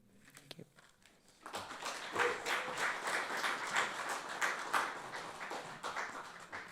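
An open mic poetry audience breaks into applause after a poem; a few scattered early claps swell after a moment into steady, moderately loud clapping from a small crowd.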